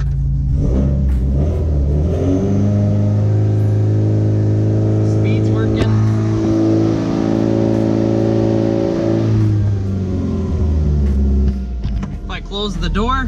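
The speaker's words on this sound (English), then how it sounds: "I'll put it in second and get some good speed going." A Subaru Impreza 2.5RS GC8 engine revs hard in second gear while the car sits on jack stands. It is loud and close, with a strong droning tone that climbs and holds steady for about ten seconds before easing off.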